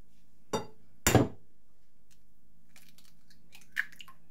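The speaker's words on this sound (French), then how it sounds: "Dans un autre saladier, je prépare une pâte. Alors, je casse 2 œufs." Two eggs cracked into a bowl for batter, two sharp close cracks about half a second apart, followed by faint small taps and rustles in a quiet room.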